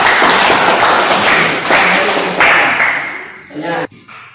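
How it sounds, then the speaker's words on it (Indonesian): Classroom of students clapping for group 2, a loud burst of applause that fades after a few seconds, ending with a couple of thumps and a brief voice. "Kita berikan aplaus kepada kelompok 2"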